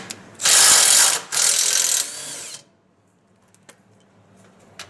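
A tool spins loose the 12 mm bumper bolts on a 2021 Honda Talon R side-by-side, giving two loud close bursts of whirring buzz. After them come a few faint clicks and then quiet.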